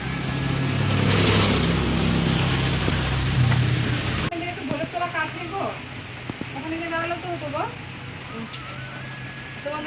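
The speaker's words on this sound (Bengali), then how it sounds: "এখন বৃষ্টির কবলে পড়ে গেছি। দেখো কি বৃষ্টি হচ্ছে।" Heavy rain pours down at a Rath Yatra fair in Baharampur, a dense steady wash that stops abruptly partway through, after which voices talk over quieter background noise.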